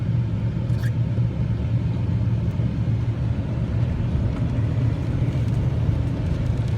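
A truck engine rumbles in a low, steady drone, continuous and fairly loud throughout, with a faint occasional clink on top and no one speaking.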